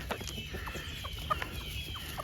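Several chickens cluck and murmur close by in a steady busy chatter while eating sausage and corn scraps, with occasional sharper peeps over a low rumbling background.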